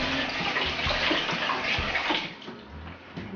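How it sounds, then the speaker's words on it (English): Hands are washed under a running kitchen tap, making a steady close rush of water with soft splashing that eases slightly toward the end. No one speaks. "let me just wash my hands."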